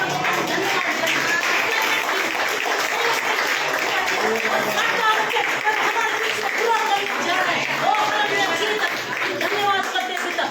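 A congregation at a Good Friday church service claps loudly and continuously, a sustained dense rattle of hands mixed with voices throughout.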